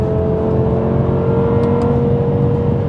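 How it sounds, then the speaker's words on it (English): A BMW M5 V10 engine hums at a steady, high-pitched drone with a smooth, sustained exhaust note and no talking. "Listen to that exhaust."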